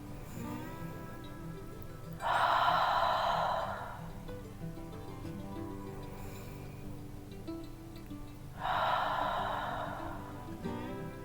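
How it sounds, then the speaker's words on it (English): Two slow, deep breaths, each a soft broadband exhale lasting over a second, taken during a gentle restorative yoga flow while standing; the breaths are quiet and close, separated by several seconds of near silence with faint background hum. "Taking a few cycles of breath here,"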